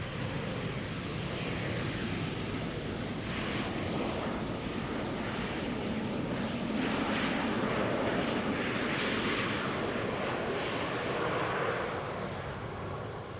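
An Embraer 175 airliner arriving from Warsaw passes with a steady, moderately loud engine roar that holds evenly for around thirteen seconds, slightly rough from wind.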